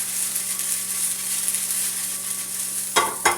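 Chiles that were rinsed beforehand fry and sizzle steadily in a hot pan for a few seconds, with a louder clatter of stirring near the end.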